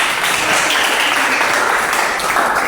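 A classroom full of students applauding, a dense, steady wash of clapping hands that holds at full strength throughout.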